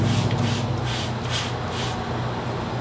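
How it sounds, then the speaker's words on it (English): A spray bottle squirts sanitizer into a Catalyst fermenter during homebrewing, making several quick hissing sprays over a steady background. "I'm going to take my spray bottle and really get up in there and squirt this guy out"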